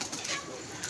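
A pigeon at a pigeon club coos softly at a distance, a brief low murmur over faint background hiss.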